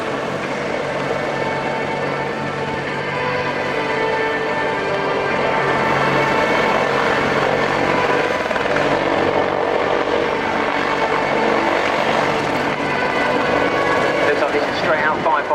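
Apache and Wildcat military helicopters at a naval air show airfield, a continuous loud rotor and turbine roar that holds steady throughout, with commentary heard over it.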